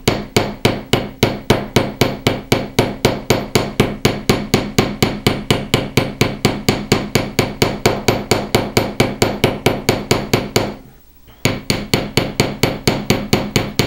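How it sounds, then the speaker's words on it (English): A hammer strikes a fine silver clasp resting on a steel block to texture it, rapid even blows in a steady rhythm, loud and close, with one brief pause near the end before the tapping resumes. "And I'm just hammering right to where the two pieces taper together."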